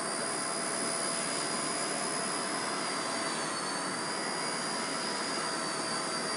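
A six-channel RC helicopter flies indoors with a steady, loud whine that holds level throughout, its motor and rotor pitch shifting only slightly, with no voices over it.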